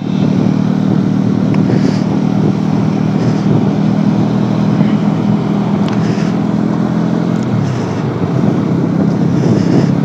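A Bajaj Dominar 400 motorcycle on a ride gives a steady low engine drone throughout, heavily mixed with constant wind rush across the microphone.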